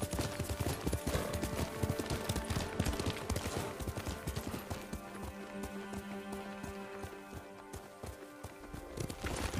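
Horse hooves clip-clop in a quick, steady rhythm in the video game Ghost of Tsushima, loud and close, with no talking over them.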